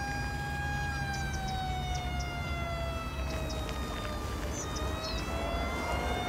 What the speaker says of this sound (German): Oder warum geben sie so ein Gas mit dem Martinshorn?